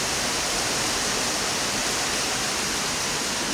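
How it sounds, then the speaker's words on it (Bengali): Heavy rain pours down onto a balcony, a constant, dense, loud hiss of falling water that stays even throughout with no pauses. "প্রচুর বৃষ্টি হচ্ছে।"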